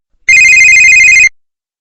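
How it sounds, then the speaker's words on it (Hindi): A telephone rings loudly and up close: one steady electronic ringtone burst lasting about a second, then silence. "आखिर अब किसका फोन आ रहा है?"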